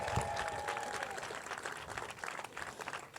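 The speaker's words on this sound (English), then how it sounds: "let's give one quick round of applause for clean water really quick" A crowd applauding at a clean water event, a continuous dense patter of many hands clapping, moderately loud and steady throughout.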